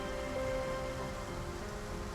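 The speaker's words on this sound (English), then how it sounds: "Uh-oh. Looks like rain." Steady rain falls in the video game Trauma Center: Second Opinion, a constant dense hiss of drops on a surface at an even level, with no talking.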